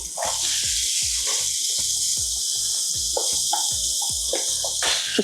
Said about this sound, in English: I'm going to add a little bit of butter, about a tablespoon of butter to the pot. And we'll use that to caramelize our onions, or just to cook our onions.